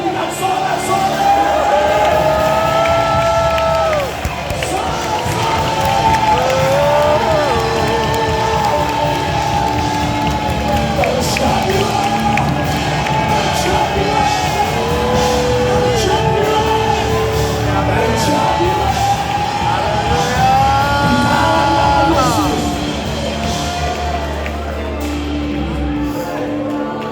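A church congregation shouts and cheers for joy, a loud, sustained crowd roar of whoops and yells with many overlapping voices, continuing strongly throughout.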